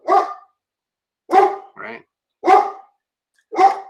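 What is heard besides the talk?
dog barking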